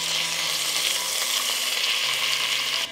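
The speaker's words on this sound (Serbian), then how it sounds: "Piletinu okrećem na drugu stranu i pržit ću 3 minuta i sa druge strane." Chicken pieces fry in oil in a pan, a dense, loud, continuous crackle and hiss heard up close without pauses or speech.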